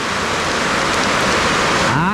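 Heavy rain drums loudly and continuously on a corrugated zinc roof, a dense unbroken roar close overhead with no pauses.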